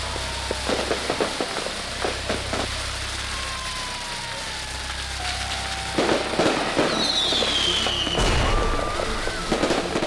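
Fireworks going off at a party, a rapid crackling series of loud pops and bangs with whistling rockets rising, several sharp bursts near the end over a low rumble.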